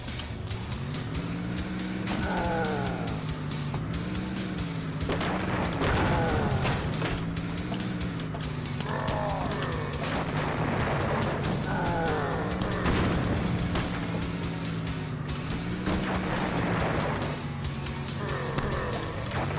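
Engine whine of a van driven in the video game Earn to Die 2, rising and falling with gear changes, broken by repeated booming explosions and crashes, loud and continuous.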